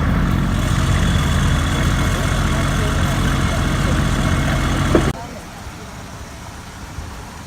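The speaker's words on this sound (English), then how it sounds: "That's the generator." A Class A RV's generator drones loudly and steadily, then cuts off abruptly about two-thirds through, leaving a quieter low background hum.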